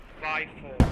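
A mortar shell lands in SquadOps, a single sharp, booming blast that cuts in abruptly just after a brief voice on the radio.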